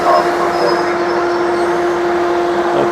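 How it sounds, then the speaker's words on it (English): A Metrolink double-decker commuter train rumbles steadily and loudly nearby, with a constant tonal hum and faint high squeals over continuous rolling noise. "this is a Metrolink. It's a double-decker, and this is basically a commuter train."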